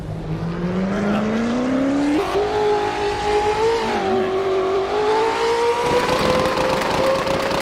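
Drift car entering the first zone of a Euro series competition round with a reverse initiation, its engine note climbing loud and close with a steady rising pitch, sustained revving and tyre noise throughout.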